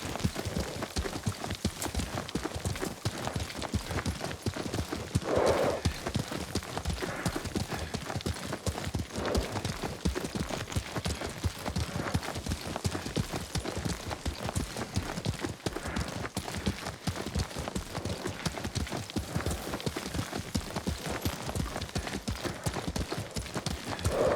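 Steady clip-clop of horse hooves as a rider travels on horseback in the samurai game Ghost of Tsushima, a continuous even rhythm running throughout with a brief whinny, no talk over it.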